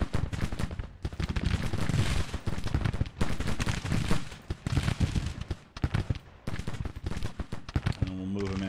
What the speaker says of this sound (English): 2nd Ohio is firing into the 45th West Virginia.